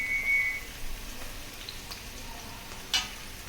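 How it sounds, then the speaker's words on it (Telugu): Curry leaves splutter and crackle in hot oil for a puliyogare tempering, giving short sizzling bursts and a sharp pop near the end of a faint, hissing background. "ఎందుకంటే కరివేపాకు అరుస్తుంది కాబట్టి మన మీద."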